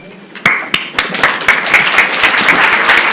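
Audience at a university law class breaks into applause, a few sharp claps at first, then building into dense, sustained clapping from many people.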